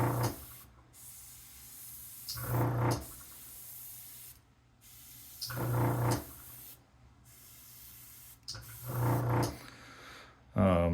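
An airbrush sprays paint in short bursts, each a soft hissing puff separated by pauses, fairly close and clear, with talk between some passes.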